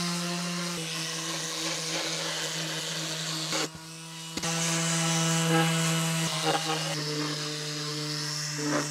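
Electric sander working over a custom skateboard deck, a steady motor whine with a harmonic hum that dips briefly midway and resumes, close and continuous with no talk.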